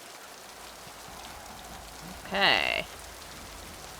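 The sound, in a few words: rain falling in the video game Mass Effect 2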